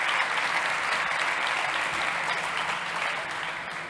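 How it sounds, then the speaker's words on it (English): An audience at a startup pitch competition applauds, a steady, full round of clapping that fades slightly near the end. "Ladies and gents, a huge round of applause from Kolibeat"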